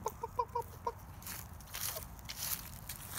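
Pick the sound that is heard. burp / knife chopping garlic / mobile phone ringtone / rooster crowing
rooster crowing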